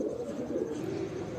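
Golden bajra pigeons in a loft coo softly in low, continuous murmuring tones, a faint steady bubbling without any talk over it.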